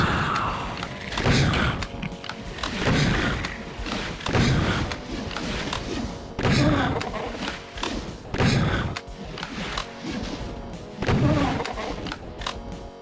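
In Doom, an exploding barrel takes out imps among a run of heavy, booming blasts and thuds, repeating every second or two at close range.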